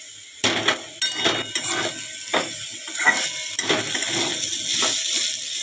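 Potatoes fry in a pan while being stirred with a utensil, a steady sizzle punctuated by repeated sharp scraping and clinking strokes against the pan at irregular intervals.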